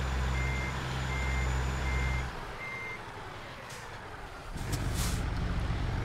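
A truck reversing in American Truck Simulator gives a steady series of high reversing beeps over a deep engine rumble, then the engine drops away, with an air brake hiss and a renewed rumble near the end, loud and close with no talking.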